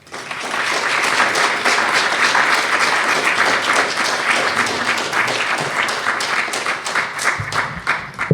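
Lecture audience greeting a guest speaker with sustained applause, dense even clapping from a full room that rises quickly, holds steady for several seconds, then thins and fades out at the end.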